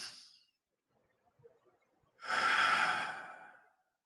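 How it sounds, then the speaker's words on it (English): A slow, forceful exhale through a constricted throat during a breathing exercise, the raspy Darth Vader breath, loud and close and lasting nearly two seconds after a brief earlier breath and a quiet pause. "some people call this like a Darth Vader breath"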